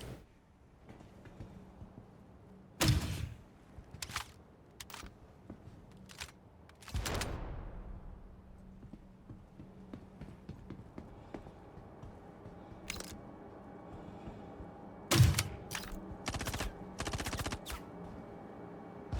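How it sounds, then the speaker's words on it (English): Grenades exploding in the Star Citizen video game, some dropping through metal grating: sharp, loud bursts come in irregular clusters, near and crackling, between stretches of low background hum, with no talking. "I don't know where those explosions are even going."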